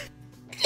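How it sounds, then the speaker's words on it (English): A single sneeze bursts out loud and close at the very end, after a brief quiet build-up of faint breathing. "I'm going to sneeze."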